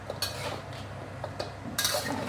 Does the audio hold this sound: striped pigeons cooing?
no